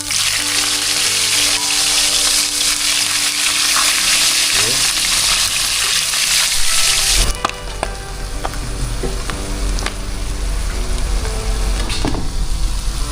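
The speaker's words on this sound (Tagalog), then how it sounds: "Prito na po natin itong ating mga salinyasi." Breakfast food frying in hot cooking oil, a loud close sizzle and crackle throughout, with stirring clinks and spatters, no talk.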